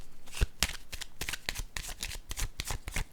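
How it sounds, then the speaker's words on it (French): Playing cards handled during a tarot-style reading: a run of crisp papery flicks and riffles in quick irregular bursts, close and moderately loud, with no talking. "Je vais piger une autre carte"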